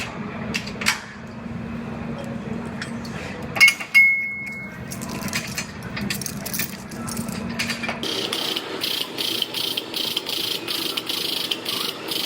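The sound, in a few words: Jeep frame being pulled square on a frame bench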